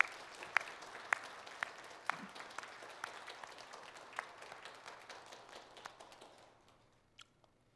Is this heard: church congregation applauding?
yes